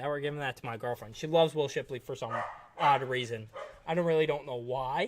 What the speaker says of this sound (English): Again, sorry about my dogs.